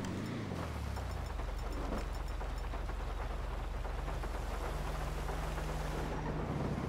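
Steady rain pours down with low rumbling thunder throughout in Grand Theft Auto Online, and an engine-like hum rises in the background.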